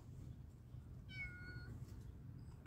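A single short meow from a cat in a quiet garage-like space, faint and close, with low steady background hum around it.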